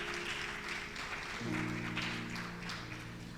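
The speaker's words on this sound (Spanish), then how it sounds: "Denle un fuerte aplauso a la palabra de Dios." A church congregation applauding, a steady dense clapping sustained for a few seconds with a sustained organ-like tone underneath.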